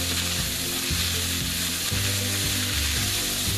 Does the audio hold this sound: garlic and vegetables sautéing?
yes